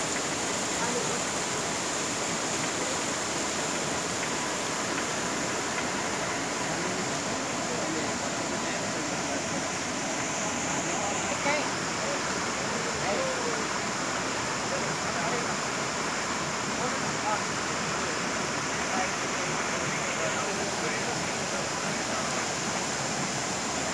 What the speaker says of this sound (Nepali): त्यो पानीलाई पाइपबाट सिधा तल ल्याएर सानो पटेरीमा एउटा टर्बाइन बनाइएको छ र टर्बाइनले त्यहाँको ढुङ्गा घुमाउँछ